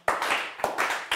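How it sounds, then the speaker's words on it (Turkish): Sparse, slow clapping in a TV quiz show studio: three distinct, close handclaps evenly spaced across a second, each a sharp strike with a short tail. "Üzgün alkış geldi ama hiç buna kafayı takmayın"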